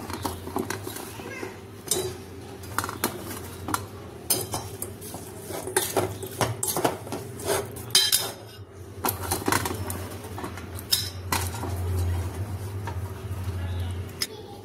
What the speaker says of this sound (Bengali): তো এই আমলাটা একটু একটু করে মিলিয়ে নেব।